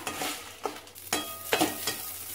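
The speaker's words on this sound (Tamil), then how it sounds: "தேங்காவை இதிலேயே போட்டு ரொம்பவும் வறுக்க வேண்டாம்" Grated coconut dry-roasting in a pan, stirred with a spoon: soft, close scraping strokes over a faint background hiss, a few distinct scrapes at irregular intervals.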